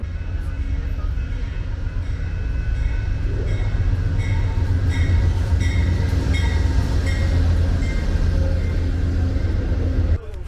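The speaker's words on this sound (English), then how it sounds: "Train is moving." An Amtrak Silver Meteor train starting to move, heard from on board as a low rumbling rolling noise with faint wheel squeals and clicks that builds slightly and stays steady.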